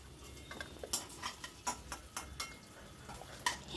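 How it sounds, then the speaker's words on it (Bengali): A utensil stirs fried elephant foot yam pieces in a pan with a quick series of light clicks and taps against the metal, quiet and close, with no voices. "এবার আর একটু নাড়াচাড়া করে আমি এবার এটাকে অন্য একটা পাত্রের ভেতর তুলে রাখছি।"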